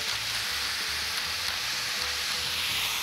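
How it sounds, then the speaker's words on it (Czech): Minced meat and vegetables sizzle and fry in a pan on the stove, a steady close crackling hiss with no one talking. "A restujeme tak dlouho, dokud to maso nebude dobře opečené."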